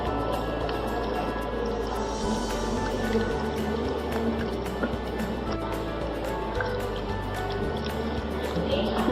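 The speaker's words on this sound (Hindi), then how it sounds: "अब इसके ऊपर डालेंगे फ्रेश पानी।" Fresh water is poured over strained, soft paneer from curdled milk while making rasmalai: a steady running, splashing pour with drips that continues for several seconds at moderate volume.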